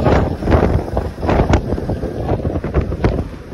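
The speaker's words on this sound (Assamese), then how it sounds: "পুৰা মজা বতাহ দি আছে" Strong wind buffets the microphone beside a truck at night, rushing and gusting in loud uneven surges with no voices.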